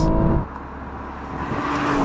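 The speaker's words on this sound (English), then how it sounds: "the turbochargers come from the GT racing car and they just spool up so quick" Turbocharged engine of a Nissan GT-R Nismo pulling hard in second gear from around 3,000 RPM, a loud steady mechanical drone that dips briefly then builds again with rising intensity, no talk over it.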